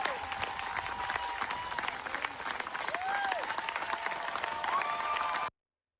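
A crowd claps steadily at an outdoor rally for a leader, dense sustained applause heard at moderate distance that cuts off abruptly near the end, with faint voices beneath.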